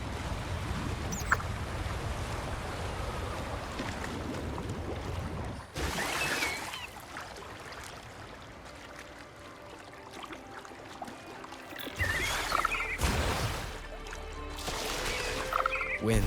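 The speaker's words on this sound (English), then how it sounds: "Another waterfall." A waterfall in the Wuthering Waves video game roars as a dense, continuous rush of falling water. The wash stays loud and steady throughout, with occasional surges and shifts in texture.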